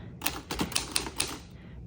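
A 1956 Smith Corona Skyriter travel typewriter clacks through a short burst of about six crisp keystrokes in quick, slightly uneven rhythm, close and alone.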